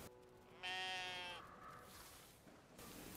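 Sheep bleating inside the video game Brothers: A Tale of Two Sons, one clear wavering bleat standing out over quiet ambient background and then fading into soft noise.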